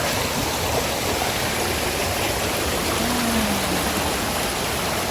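A mountain stream at Hua Chang waterfall in Pai district rushes steadily, a dense, even wash of flowing water that fills the whole moment without pause.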